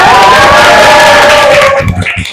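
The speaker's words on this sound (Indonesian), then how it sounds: "kita kasih aplaus" An audience at an Indonesian psychology teaching session cheers and whoops loudly for about two seconds, then the noise cuts off sharply.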